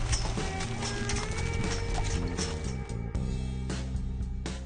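Horses walk at a prison in Norway, hooves clopping in an irregular rhythm beneath steady music with low sustained tones.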